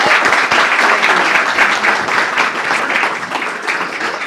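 A lecture audience claps steadily to welcome a presenter, a dense and fairly loud applause that holds for the whole stretch and fades slightly toward the end, with no voices over it.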